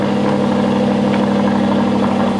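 An Aston Martin V8 Vantage with its stock exhaust runs at a steady idle close by, a continuous low, even drone with no other sounds.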